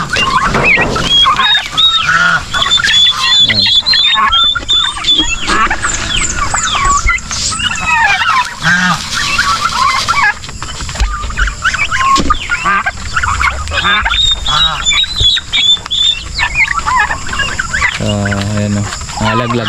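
Constant clamor of farm turkeys gobbling and birds honking and squawking, dense and loud throughout, with some chirps and a human voice briefly mixed in.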